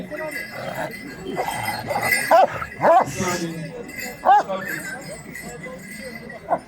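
An Anatolian shepherd dog lets out a few sharp, loud barks in the middle of busy outdoor chatter, with people talking close by throughout.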